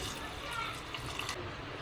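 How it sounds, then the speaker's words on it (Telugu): Water pours into a pot of mutton and cucumber curry, a steady wet splashing and trickle heard up close over roughly two seconds. "వాటర్ పోసుకొని"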